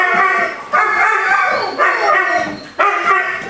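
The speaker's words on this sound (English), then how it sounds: "We got to yell at some dogs for barking." Several dogs bark and yip in repeated loud bursts close by, with whimpering between barks and some voices mixed in.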